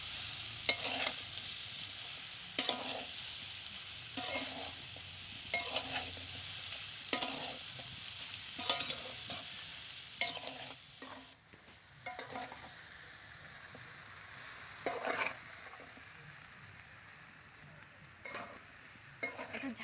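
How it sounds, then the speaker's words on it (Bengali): Elephant apple (chalta) pickle with sugar is stirred in a pan, with a steady sizzle behind repeated scraping strokes that come in evenly spaced bursts every couple of seconds, close and fairly loud. "ভালো করে নাড়তে থাকবো চিনি দিয়ে।"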